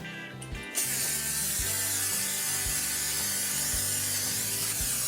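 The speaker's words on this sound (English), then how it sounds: "I'm gonna spray it with this Pam" A steady, continuous hiss of a Pam cooking oil aerosol spray lasting several seconds, with a faint rhythmic mechanical rattle underneath.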